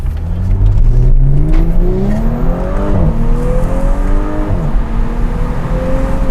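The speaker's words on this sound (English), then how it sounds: "I'm gonna open the windows a little bit so you guys can kind of hear the exhaust." A tuned Audi S5 Sportback revs up through the gears, its exhaust droning loudly and rising in pitch with each pull, heard close with no talking.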